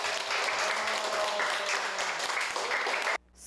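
Children in a coding class clap together in dense, steady applause lasting about three seconds, then it cuts off sharply into near silence.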